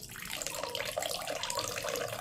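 Water pours steadily into a cooking pot while making a fish and mango curry, a continuous moderate splashing stream with no talking.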